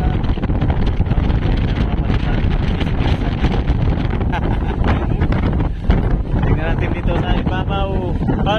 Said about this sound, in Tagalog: malakas talaga yung hangin